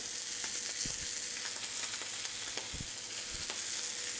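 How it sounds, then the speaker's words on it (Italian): A guinea fowl breast sears skin-side down in a hot pan, giving a steady close sizzle and crackle with occasional sharper pops, with no talk. "Stiamo cuocendo il petto di faraona, già dissessato, ecco, caramelliamo bene la pelle"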